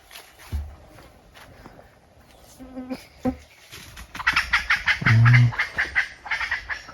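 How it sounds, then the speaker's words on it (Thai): Jungle fowl call a few times in the open, a harsh broken crow with short clucks, amid rustling and scattered outdoor noise. "ไก่ป่า"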